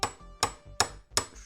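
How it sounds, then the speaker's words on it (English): A hammer strikes a new bearing held in a vise, seating it into a Maytronics Dolphin pool robot impeller motor: four sharp metallic taps at an even steady rhythm, close and loud, with no talk. "I've got it right here on the vise, and just take your hammer and just go straight"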